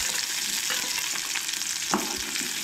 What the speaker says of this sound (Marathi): एक उबो जो कांदो चिरून घेतलेलो तो हांगसर आमी ऍड केला